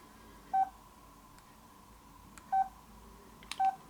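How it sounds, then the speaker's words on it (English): Three short keypad beeps from a Samsung S5230W Star WiFi touchscreen phone, evenly spaced single tones over a faint background hiss, no talking. "Also there are some keypad tones."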